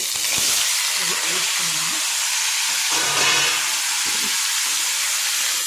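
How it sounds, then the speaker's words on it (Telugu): Bitter gourd pieces frying in about two spoons of oil in a pan, giving a loud, steady, close sizzle and hiss that runs the whole time, with faint low voices underneath. "ఒక రెండు స్పూన్లు ఆయిల్ వేసుకొని కాకరకాయ వేయించుకున్నాము"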